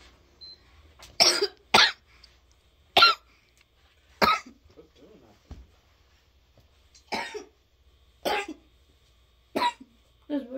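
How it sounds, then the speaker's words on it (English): Repeated coughing, about nine separate bursts spaced irregularly over roughly ten seconds, each short and fairly loud against a quiet background. "The reason why I'm coughing"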